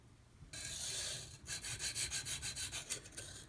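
A Dalton 07 Militia knife blade is drawn across a Pride Abrasives sharpening stone: a steady scratchy rub, then a quick run of short rhythmic strokes, close and fairly quiet, with no voices.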